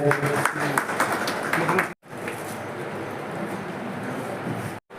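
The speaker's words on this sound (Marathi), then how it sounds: "जोरदार टाळ्या होऊन जात्या" An audience at the first Ambedkarite literary conference at Shivchhatrapati College in Pachod applauds. A voice talks over the start, then steady clapping continues until a short cut near the end.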